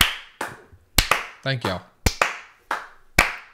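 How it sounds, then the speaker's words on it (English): A small group gives Stacy a slow clap on a podcast set, about seven sharp, separate claps spaced unevenly over a few seconds, with a brief spoken thanks in the middle. "Slow clap. Slow it down."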